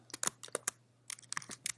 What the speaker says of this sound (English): And I'm going to start typing.